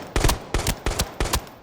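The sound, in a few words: gunshots in video game Arena Breakout Infinite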